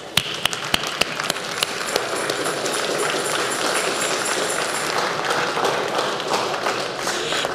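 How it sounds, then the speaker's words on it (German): Applause from a crowd at an outdoor light festival in Bad Ragaz, honoring a chainsaw-carved artwork, sustained and dense for several seconds, with a few sharp claps standing out at the start. "ganz herzlichen Applaus"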